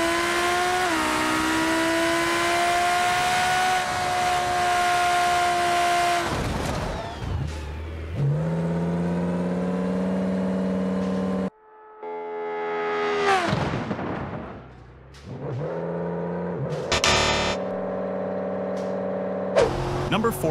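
Lamborghini Huracan engine in the BeamNG Drive driving game, a loud steady drone rising in pitch, then abrupt cuts, crashes and renewed revving bursts over about twenty seconds.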